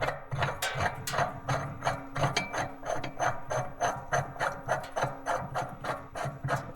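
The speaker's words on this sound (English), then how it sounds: "Okay, I got my clutch puller. Gonna thread that in." A clutch puller is threaded into a Can-Am clutch, giving a rhythmic run of short metallic clicks and rasping scrapes repeating steadily at close range, with no talking heard.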